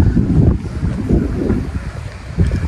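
Cold wind buffets the microphone on a road trip to Tagaytay, a loud, continuous low rumble that swells and eases in gusts, with no voices heard.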